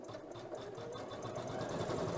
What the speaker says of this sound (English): this is a really quick motif that we're stitching out